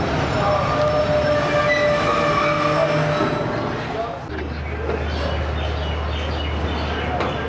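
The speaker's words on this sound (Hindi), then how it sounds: "दोस्तों रवाना हो गई है ट्रेन चकलाला से" Tezgam express train pulling out of Chaklala railway station, a loud, continuous rumble of rolling stock with metallic squeals and clatter, later joined by a steady low drone, with crowd noise under it.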